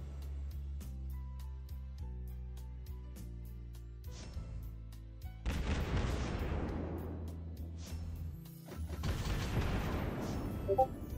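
Naval artillery fire in the World of Warships Blitz video game: two heavy booming salvos with rumbling tails, following a quieter passage of game music and mechanical sounds.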